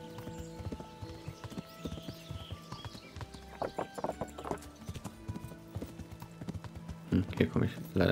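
Horse hooves clip-clopping steadily while riding in the Kingdom Come Deliverance video game, a continuous rhythmic trot with a snort or whinny and louder hoof falls toward the end.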